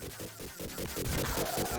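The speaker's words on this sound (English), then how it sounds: "I thought that explosion sound was him dying" Explosion sound effects from the Vectorman video game played on original Sega Mega Drive hardware: a loud, steady barrage of rapid crackling bursts with a deep rumble underneath, running through the whole stretch without any talking.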